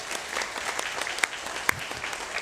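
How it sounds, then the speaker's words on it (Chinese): A church congregation claps to welcome a visiting pastor, a steady mass of hand claps with a few sharper nearby claps standing out, continuous through the short stretch. "拍手掌欢迎他。"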